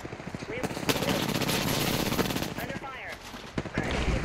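Rapid automatic gunfire from the video game Apex Legends rattles in dense bursts, with a voice speaking briefly amid the shooting.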